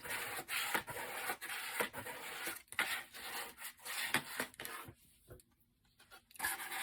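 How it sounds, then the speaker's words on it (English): Bone folder smoothing the paper corners of a handmade woodland fairy junk journal, producing soft, close scraping and rubbing strokes in an uneven rhythm, quiet, with a short pause near the end. "get your bone folder and smooth it. Smooth all the corners."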